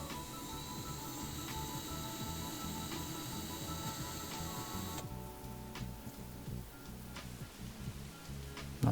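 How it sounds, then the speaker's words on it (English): A small drill bores out the rivet on the base of a 1975 Matchbox Range Rover Police Patrol die-cast toy car, a steady whining grind with a faint ticking rhythm, close by and alone. "Starting by drilling the rivet to open the car."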